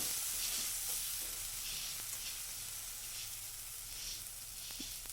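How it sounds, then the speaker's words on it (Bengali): A paste of peas, ginger and cumin fries in hot oil, giving a steady close sizzle and hiss with faint stirring and no talk. "দিয়ে একটু তেলের মধ্যে এটাকে একটু ভাজা ভাজা করে নেব"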